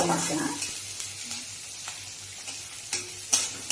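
Onions fry in a pan, crackling loudly up close, with quick stirring scrapes and clicks punctuating the sizzle.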